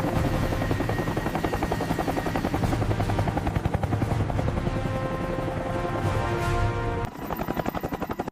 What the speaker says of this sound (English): The AH-1Z Viper proves why it's one of the deadliest helicopters in the world.